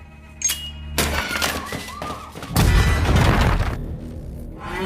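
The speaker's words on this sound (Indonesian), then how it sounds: "Mendengar sebuah ledakan," A grenade goes off inside a room in an action film: clattering, clinking impacts lead into a loud, deep booming blast midway that rolls on with crackling debris.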